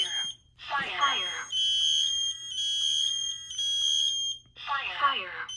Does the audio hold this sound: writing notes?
no